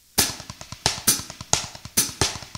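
Thirty-second notes grouped in sixes on a drum practice pad, with crisp rapid taps and an accent leading each group of six, close and alone.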